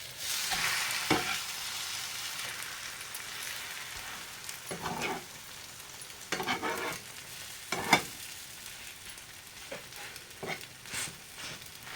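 A chapati roasts on a hot pan for an omelette paratha, giving a steady soft sizzle with occasional louder crackling bursts as it is pressed and turned, close up with no talk.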